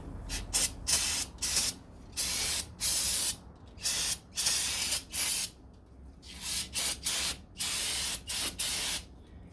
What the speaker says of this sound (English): you can use carburetor cleaner or brake cleaner, either or. Brake cleaner seems to break up grease a little bit better